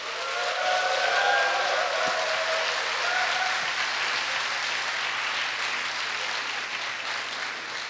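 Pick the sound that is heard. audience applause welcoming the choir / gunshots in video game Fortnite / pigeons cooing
audience applause welcoming the choir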